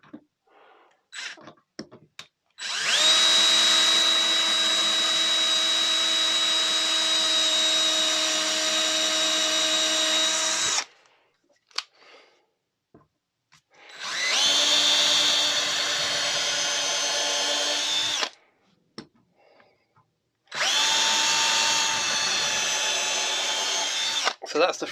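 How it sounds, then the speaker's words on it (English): Power drill boring pilot holes for screws during a Mondeo MK3 ST220 side repeater repair, three long loud whirring runs separated by short quiet gaps with faint handling noise. "So I'm just going to pilot a hole."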